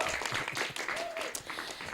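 A crowd at an Islamic boarding school event claps in a brief, uneven burst of applause, fairly faint and mixed with voices and a few shouts over its two seconds.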